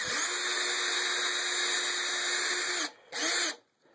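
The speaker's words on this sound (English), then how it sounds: "I'm going to drill my pilot hole" A power drill runs steadily boring a pilot hole for custom A-pillar tweeter pods in a 1999 Honda Accord, a loud continuous whine that cuts off, restarts briefly, then stops.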